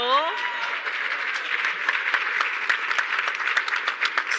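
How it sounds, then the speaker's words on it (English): A symposium audience applauds with dense, steady clapping that keeps going, and a voice is heard briefly at the start. "A round of applause, please. You're going to have to clap a little louder."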